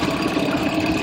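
A newly started outboard boat engine idling at a dock, a close, loud, even putter with a fast rhythmic pulse and no talk.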